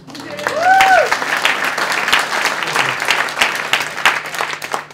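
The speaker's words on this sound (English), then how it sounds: "Yeah, I hear y'all clapping" Audience at a comedy stand-up show clapping steadily for several seconds, dense and close, with a brief whoop or cheer near the start and some faint voices mixed into the applause.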